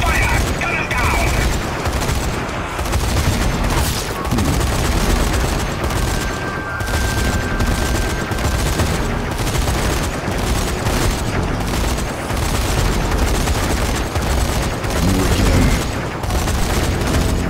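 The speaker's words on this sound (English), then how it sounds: "Gun turret, right here. Open fire!" Mounted gun turret firing in the co-op zombie shooter Zombie Army 4, a dense, continuous barrage of loud gunfire and booms running throughout, with voices heard over the din.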